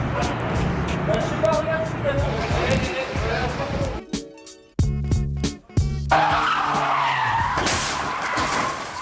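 During a taxi car-chase stunt on a square outside a prefecture, with police cars in pursuit, loud tires skid and squeal repeatedly in long bursts over engine noise, with a sharp knock in the middle.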